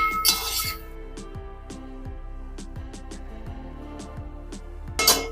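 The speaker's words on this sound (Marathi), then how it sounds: "थोडंसं झाकण ठेवते." A lid is set on a cooking pan where onions are frying in tempering, giving a bright clink near the start and another near the end, quiet and close, with no talk.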